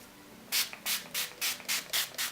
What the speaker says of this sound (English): This is the Kiss New York Pro Touch Makeup Setting Spray. I love this mist.